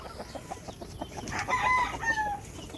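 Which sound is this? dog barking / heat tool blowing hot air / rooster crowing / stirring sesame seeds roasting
rooster crowing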